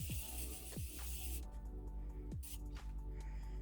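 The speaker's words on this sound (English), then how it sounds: "I'm just taking some of my Morphe setting spray here." Morphe setting spray is misted onto a face with a short hissing spray burst, followed by softer pumps and faint squishy sounds up close, under light background noise.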